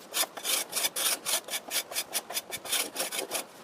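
A brick's corner being planed off with a straight edge for a furnace build, giving a close, dry rasping scrape that repeats in quick rhythmic strokes, roughly three per second, with no talking.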